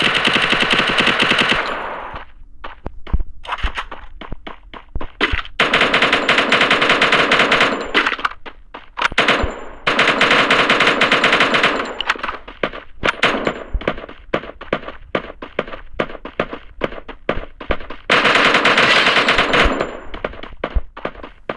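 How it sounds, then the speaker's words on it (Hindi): Gunfire in a Free Fire Max solo versus squad match: long loud bursts of automatic fire broken by short pauses and single shots, with metallic clangs between volleys. "साइड में से दूसरा बंदा हम पे फायर करने लग जाता है"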